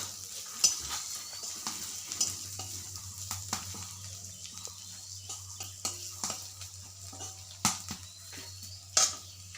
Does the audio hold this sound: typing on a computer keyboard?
no